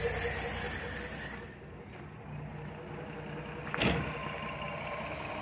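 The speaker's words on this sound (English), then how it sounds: "listen to that thing just purring away" A slightly leaking 1974 Ford E100 van engine idles steadily nearby with a low, even rumble, a brief clunk partway through, and no voices.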